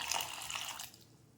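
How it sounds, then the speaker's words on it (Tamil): Hot water poured into black urad dal porridge, a brief bright splashing pour lasting under a second that fades quickly, close up and with no talking. "கொஞ்சம் சுடுதண்ணி ஊற்றி கலந்துக்கலாம்."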